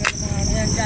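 Crickets chirp in a countryside farm field as a steady high-pitched trill, fairly loud and continuous through a brief moment, over a low background rumble.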